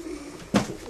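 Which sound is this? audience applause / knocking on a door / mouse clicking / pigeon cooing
pigeon cooing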